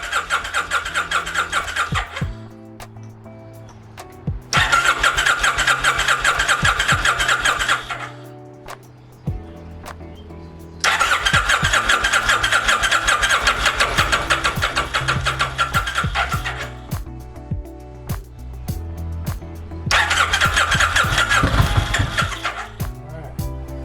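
A 1996 Kawasaki Vulcan motorcycle is cranked with the choke pulled out in neutral, producing several long starter-and-engine bursts separated by pauses, loud and close, with someone talking between attempts.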